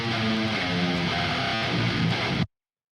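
Glitch effect on distorted guitars in a metal breakdown, a dense, stuttering burst of chopped, heavily processed guitar that plays loud and alone for about two and a half seconds, then cuts off abruptly.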